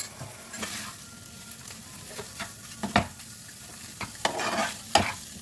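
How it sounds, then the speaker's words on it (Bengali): Fish frying with ginger and garlic paste in a pan, a continuous soft sizzle broken by sharp scraping stirs and spatula knocks at irregular intervals, close by, with no voices. "আদা রসুন খানিকটা কষানো হয়ে গেলে মাছটা এর মধ্যে দিয়ে দেবো, সেদ্ধ করে রাখা মাছটা।"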